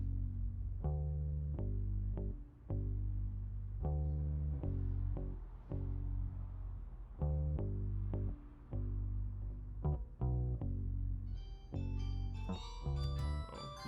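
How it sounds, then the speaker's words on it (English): Isolated bass guitar track from a song, comped together from full takes: a steady run of plucked low notes in a repeating rhythm, loud and close, with some higher ringing tones near the end. "the bass sounds like this"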